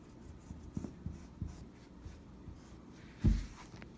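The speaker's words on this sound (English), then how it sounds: "I'm just tracing a little line to follow where I'll be cutting." Chalk or marker tracing a line on a denim jacket, faint soft scratching strokes with a few light taps and one louder bump near the end, close and quiet.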